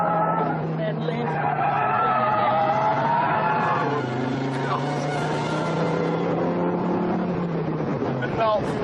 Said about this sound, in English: So we're coming down this corner, braking on the brakes, then just flick it in, then lift